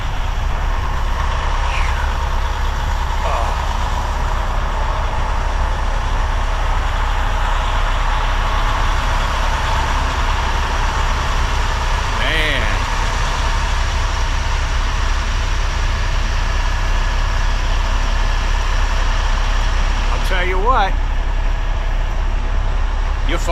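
A 1971 Peterbilt 359 truck's diesel engine rumbles steadily and loud throughout, a constant low drone with faint mechanical ticks, in an outdoor truck show setting.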